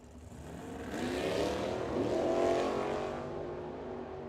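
A 1965 Ford Falcon and a Nova launch side by side at a Firebird Motorsports Park drag race, engines roaring and rising in pitch as they pull away, a loud sustained surge that swells then eases off.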